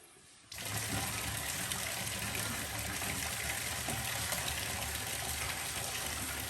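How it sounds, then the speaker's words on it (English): Water is turned on and rushes through newly installed Shell Water Systems whole-house filter plumbing; after a brief quiet start, a steady, even hiss and gush of flow continues to the end, with no talking. "I'm gonna turn the water on, we'll see which one starts flowing"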